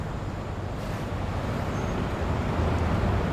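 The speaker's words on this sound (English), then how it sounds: "You can hear the cars in the distance, all trying to move to their respective destinations." Rush-hour traffic on the Cross Bronx Expressway in the Bronx, a constant dense roar of cars, buses and trucks heard from a distance, steady and fairly loud with no talking.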